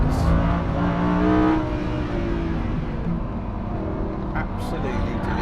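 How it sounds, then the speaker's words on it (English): A Lamborghini Huracan LP 580-2 engine revs with a sustained, throaty drone that rises and falls, heard from inside the car while someone talks over it. "Listen to that engine, just"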